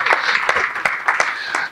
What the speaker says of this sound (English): Let's just clap for ourselves.